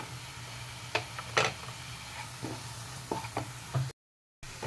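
Green peas dropped into a pan of paneer masala frying in oil, with soft sizzling and scattered scraping stirs and taps at close range over a steady low hum.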